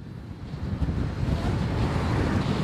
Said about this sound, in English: It's very windy, if you haven't noticed.